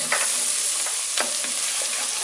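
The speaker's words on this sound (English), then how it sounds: "I'm going to mix it all up" Flour is stirred into sautéed onion and garlic in a pot, giving a constant close sizzle broken by a few quick scraping strokes of a spoon against the pan.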